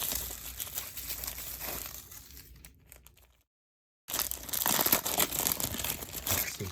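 Card packaging gets crinkled and torn open up close, loud rustling that fades to a brief silence before resuming even louder, with no talking.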